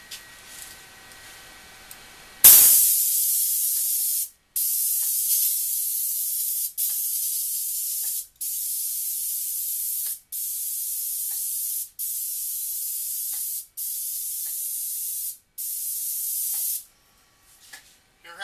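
A Graco EH 433 airless paint sprayer pump makes a loud, steady spray hiss that repeatedly cuts off and restarts in slow, even cycles, about eight bursts separated by brief pauses, with no talking.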